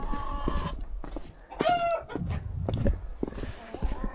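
Chickens cluck and squawk close by in a busy, irregular flurry outdoors in early spring snow, with one higher drawn-out call partway through.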